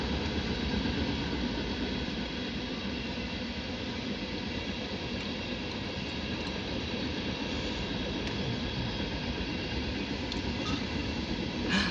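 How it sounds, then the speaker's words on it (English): A CSX trash train rolls past near Erie, Pennsylvania, a steady broadband rumble of wheels and cars holding constant across the whole stretch with no voices. "Looks like we have a CSX trash train"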